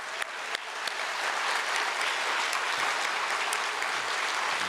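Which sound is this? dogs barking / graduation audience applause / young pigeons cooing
graduation audience applause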